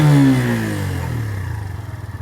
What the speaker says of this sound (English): That engine tone sounds quite nice as well, I think.